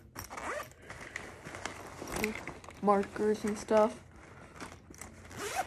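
A pencil case zipper is pulled open in a few quick rasping strokes, with crinkling rustle around it and a person talking quietly.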